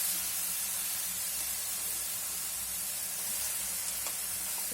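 Food frying in a pan over a low flame, a steady soft sizzle and hiss that holds evenly throughout with no talking.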